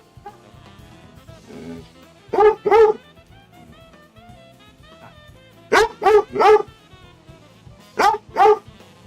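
A dog barks loudly nearby in three short bursts of two to three barks each, with quiet room ambience between them.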